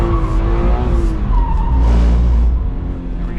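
A 2022 Subaru BRZ drifts under heavy throttle through a transition, its tires squealing loudly over a droning, revving engine in one continuous, close slide.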